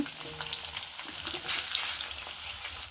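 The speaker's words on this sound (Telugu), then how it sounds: "మసాలా దినుసులన్నీ మళ్ళీ ఫ్రై చేసుకుంటున్నాను నూనెలో" Whole spices and onion pieces fry in hot oil for a fish curry, giving a steady, close sizzle with soft stirring that swells briefly midway. No one speaks.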